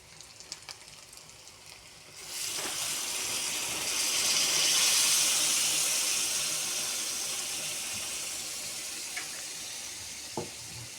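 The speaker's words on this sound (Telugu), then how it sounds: "ఇప్పుడు గ్లాసుడు వాటర్ పోసుకుందాం" A glass of water poured into simmering chicken curry in a pan, setting off a loud, sustained hiss and sizzle that swells after a brief quiet start, then slowly settles, with no one talking.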